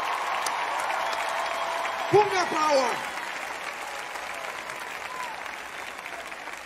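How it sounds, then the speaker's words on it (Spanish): A concert crowd at a live show applauds the technical crew, with someone speaking over a bed of clapping and cheering that carries on beneath him. "yo quiero que le den un aplauso a los técnicos"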